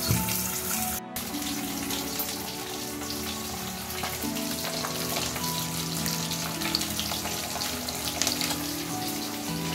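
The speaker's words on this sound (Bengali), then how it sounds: "এই যে এখন মাছ ভাজা চলছে" Fish fries in oil at a Bengali traditional food festival stall, giving a close, continuous crackling sizzle that stays steady throughout.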